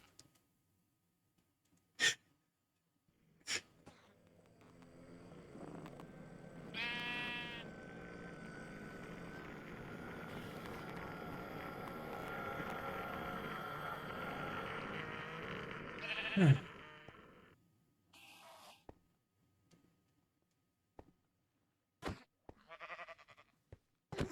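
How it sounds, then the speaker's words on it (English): Sheep bleating in a video game, a long wavering bleat swelling in the middle and fading, surrounded by a few sharp clicks and brief game effects. "Slightly possessed sheep."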